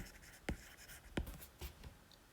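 Pens scratch on paper in a middle school classroom, with a few sharp taps and scribbling strokes, faint and close in an otherwise quiet room.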